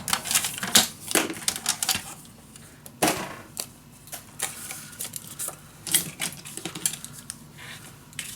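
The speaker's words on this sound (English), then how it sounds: "And we are going to score and cut." Paper being scored and cut for a mini album makes a run of sharp, close clicks and taps with irregular rhythm and short scraping strokes between them; no one talks.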